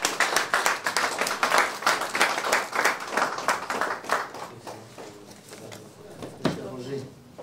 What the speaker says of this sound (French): On sera accompagné par des applaudissements.